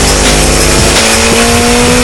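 A car engine screams at very high revs, up to 8,000 RPM, loud and close, its pitch climbing in steps as it revs harder.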